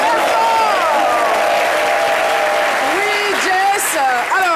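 Studio audience applauding for TV presenter Jessica Bouma on a French midday show, a steady dense wash of clapping throughout with voices and cheers mixed in.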